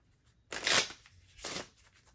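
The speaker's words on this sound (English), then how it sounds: "And we'll shuffle for draw number 4." A deck of playing cards is shuffled nearby in two quick riffling bursts, the first longer and louder, separated by a short pause, with no talk.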